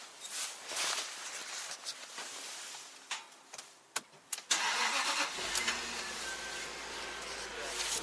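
A car engine cranks and fires up after a few seconds of low activity, then settles into a steady idle with a continuous low rumble; the battery is low on charge.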